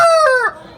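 A Cochin rooster on a farm gives a single short, loud crow close by, its tone bending downward before cutting off, followed by quiet.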